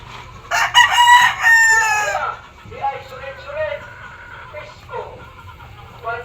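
Gamefowl roosters in a backyard breeding yard in Sogod, Southern Leyte, give a loud, close crow, followed by further crowing and clucking calls from the flock.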